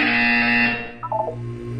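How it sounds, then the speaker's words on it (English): A loud, sustained electronic buzzer tone in Portal 2 lasting under a second, followed by a brief chirpy electronic blip and a low lingering hum. "You will hear a buzzer. When you hear the buzzer, look up at the ceiling."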